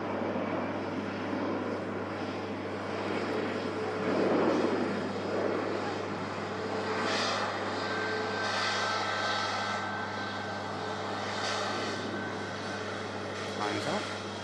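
An EasyJet airliner on a Charles de Gaulle flight, heard as a broad engine roar at an airport that swells and fades, with a steady low hum beneath and voices chatting nearby.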